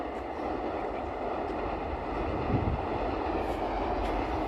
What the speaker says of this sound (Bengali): এখন সবে মাত্র একটা ট্রেন ঢুকছે, তোমাদেরকে দেখাও একবার, কি দারুণ লাগে এই ব্রিজের উপর থেকে যখন ট্রেনগুলো যায়।